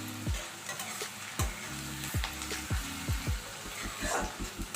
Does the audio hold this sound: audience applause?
no